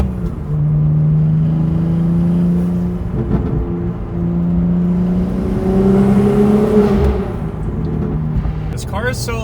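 A modified BMW M2 engine tuned to sound like a Nissan GT-R revs and pulls through rising and falling tones, loud and steady from start to finish, with a brief sharper burst near the end.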